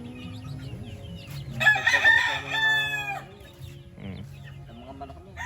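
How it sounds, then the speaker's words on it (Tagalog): Gamecock roosters on a game farm crow in two long, loud harmonic calls near the middle, over a steady background of clucking and low farm noise. "Sa mga manok mo."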